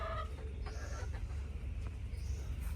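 Chickens clucking on a poultry farm after a nor'wester storm, soft and somewhat distant, with a few brief calls over a low, constant background rumble.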